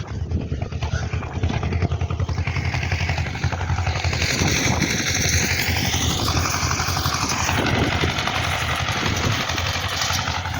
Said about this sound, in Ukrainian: Борний трактор, третя передача. Повищена. Дивіться, трошки нагрузку йде, димок кидає